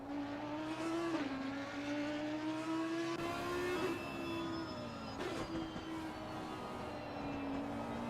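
High, sustained wail of an Audi's naturally aspirated 5.2-litre V10 race engine in an Assetto Corsa Competizione race at Zandvoort, pitch rising and dipping through gear changes, with another car's lower drone beneath at first.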